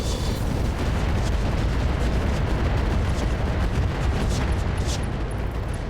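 A sustained, dense roar of explosions and rumbling blasts as mech weapons fire in the RogueTech battle game, loud and unbroken throughout with scattered sharper cracks near the end.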